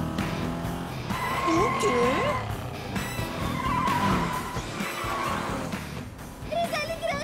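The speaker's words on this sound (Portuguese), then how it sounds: "É um carro pequeno fazendo barulho de carro pequeno." A small cartoon car from the Polly Pocket animated series making engine noise, with squealing, whining tones and rumbling under a brief spoken line and background music.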